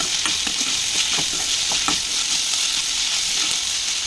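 Onions frying in a pan for a bitter gourd and sesame curry give a loud, constant sizzle at close range, broken by soft scraping strokes of a spatula stirring them, and nobody speaks.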